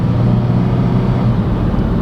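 A Nissan Xterra engine drones steadily from inside the cabin while driving, a loud, even low rumble with no breaks and no talk.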